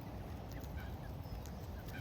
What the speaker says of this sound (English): Mr. Goosey is wondering if we're gandering or just looking